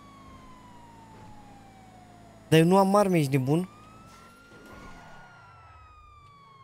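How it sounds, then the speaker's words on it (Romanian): A police siren in the GTA video game gives a short, loud wailing burst amid game engine drone, and someone talks over the scene. "Am uitat să pună și sirena."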